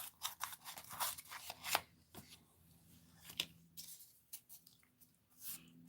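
Scissors snip through paper quilling material in quick irregular clusters of crisp cuts, close and fairly quiet, with short pauses between bursts and no talking.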